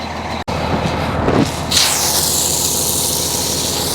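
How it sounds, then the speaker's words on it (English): Water sprays onto an RV sewer hose connector, a steady broadband hiss that grows fuller partway through and runs on without pause; no talking. "the last thing I do is I rinse off my connector."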